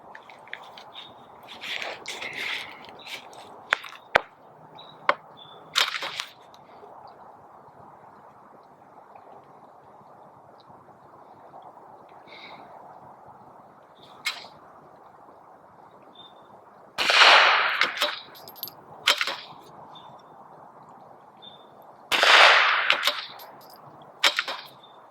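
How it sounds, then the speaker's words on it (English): Rifle shots ring out downrange from a prone shooting position, a few sharp, loud reports spaced well apart with quieter handling clicks between. "We'll take a couple shots downrange."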